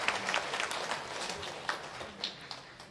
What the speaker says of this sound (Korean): 감사의 큰 박수 한번 보내주시기 바랍니다